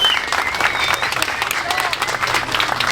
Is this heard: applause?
yes